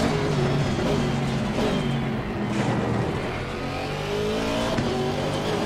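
A GT3 race car in Assetto Corsa Competizione at Oulton Park drones at high revs, its engine note rising and falling through gear changes in a loud, continuous onboard roar.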